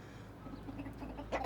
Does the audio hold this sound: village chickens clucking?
yes